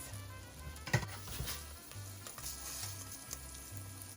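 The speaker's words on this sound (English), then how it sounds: "Gonna stir that around and coat the rice with the oil" Rice is stirred and fried in cooking oil in a pan over heat just under high, giving a steady close sizzle broken by scraping and stirring clatters and a low rhythmic hum beneath.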